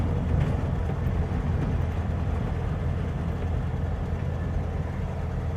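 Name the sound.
loose rattle in a 1957 VW Beetle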